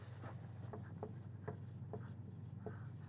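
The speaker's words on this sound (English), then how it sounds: "So we'll write that up on the board." Chalk or marker writing up a biochemistry term on a classroom board, a series of short, distinct strokes in quick rhythm over a low steady room hum, with no talking.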